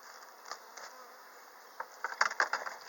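Honey bees dusted with powdered sugar for a mite check buzz as a faint steady hum, broken by soft tapping and rustling that grows busier toward the end, with no one talking.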